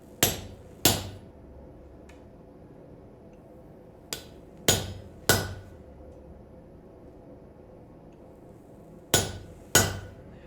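A hammer strikes a chisel to split hot metal during forging, with sharp, loud ringing blows arriving in pairs and a single lighter tap, separated by quiet gaps.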